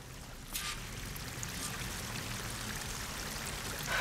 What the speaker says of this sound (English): That waterfall must be coming from somewhere.